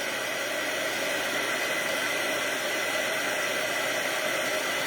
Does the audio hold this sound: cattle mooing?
no